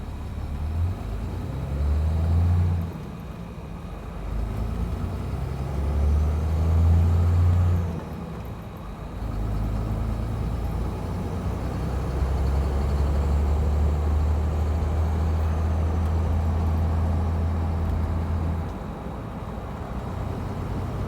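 A pickup truck with a manual-swapped 5.9 Cummins diesel and five-speed gearbox drives along, its low engine drone rising and falling through gear changes, steady and close with no talk.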